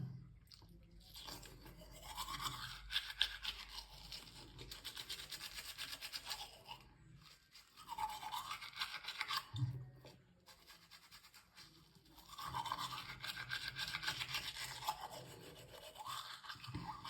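Teeth are scrubbed with a toothbrush in three bouts of quick, scratchy back-and-forth strokes, close but soft, separated by short quiet pauses.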